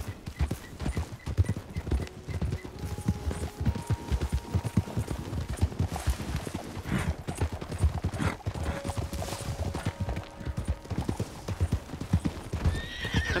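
Horse riding in Red Dead Redemption 2: a steady, fast clip-clop of hooves pounds on without pause, loud and close, with a few whinnies and faint game ambience beneath.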